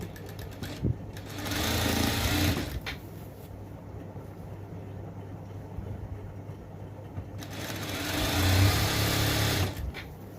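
A sewing machine stitches down a folded petticoat hem in two rapid, whirring bursts of a few seconds each, separated by a quiet pause, heard close up with no talking.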